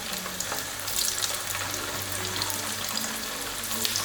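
Minced lamb kebabs shallow frying in oil on high heat give off a steady, close, hissing sizzle with no pauses and no voices.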